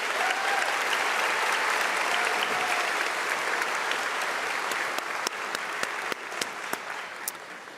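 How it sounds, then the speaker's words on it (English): Sustained applause from a large audience for music students at a school graduation ceremony, a dense steady wash of clapping with a few sharper individual claps toward the end. "let's give these wonderful musical students a round of applause"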